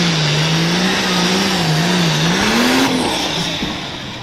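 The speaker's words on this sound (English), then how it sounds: "So this tractor, watch the left front tire of this tractor as it goes down the track." A pulling tractor roars down the dragway track at Dragway 42, Chapel Hill, its loud engine holding a steady rising and falling drone before easing off near the end.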